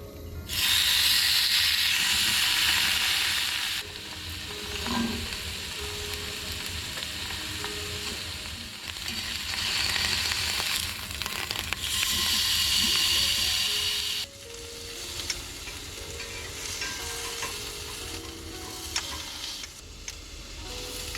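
Meat fries in a pan at an open-field car-camping spot with a strong, steady sizzle that swells and eases as the food is stirred, close and loud, with occasional clicks and no voices.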